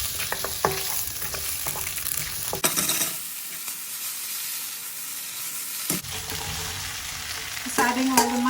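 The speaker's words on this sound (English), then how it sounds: "just stir fry it for a few seconds until it's kind of slightly cooked through" Ginger, garlic and green pepper stir-frying in a hot wok for a mushroom chilli dish, a steady close sizzle with repeated scrapes and clacks of the spatula, briefly quieter midway before the stirring picks up again.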